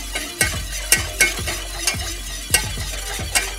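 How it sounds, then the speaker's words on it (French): Chocolate soufflé cream being whisked continuously in a saucepan as it thickens gives rhythmic metallic strokes and clinks against the pan, roughly two per second, close and distinct, with no voices. "Fouettée en permanence, cette crème va progressivement épaissir comme pour une crème pâtissière."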